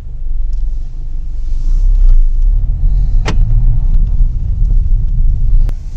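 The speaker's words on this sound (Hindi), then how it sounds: "केबिन नॉइज़ अगर आपको सुनाई आ रही हो तो बहुत ही मामूली सी है, जो कि डीजल" Inside a Kia Sonet HTX diesel, a steady low engine and road rumble fills the cabin, with only a couple of faint clicks and no talking.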